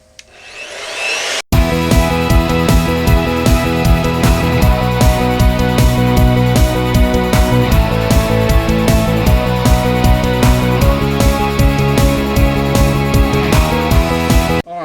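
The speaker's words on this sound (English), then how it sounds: "I'm just going to drill a straight line" A loud power drill whines steadily as it bores a wire hole through a guitar body's wood, starting after a brief quiet moment and running continuously to the end.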